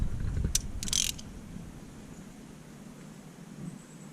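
Hand-tightening a spark plug on a 1.9-litre M44 engine in a BMW Z3 E36, a couple of short ratcheting clicks near the start over steady background hiss, then only faint mechanical noise.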